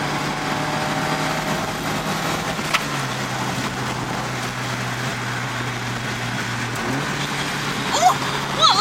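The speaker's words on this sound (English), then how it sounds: "Oh, what a lovely little sound shift." A carburetted Mk2 VW Golf with a swapped ABF engine runs steadily nearby, a raw droning tone that rises briefly near the end, with voices talking over it.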